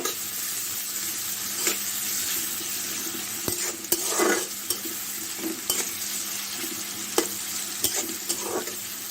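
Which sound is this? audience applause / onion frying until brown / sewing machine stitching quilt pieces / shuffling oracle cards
onion frying until brown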